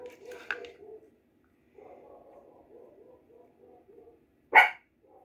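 A dog barks several times in a soft, rapid series, pauses, then gives one sharp, louder bark near the end; no one speaks.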